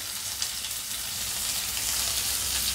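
Chana dal, green chillies and cashews frying in oil for coconut rice, a steady close crackling sizzle with no break.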